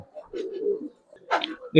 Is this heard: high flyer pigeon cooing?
yes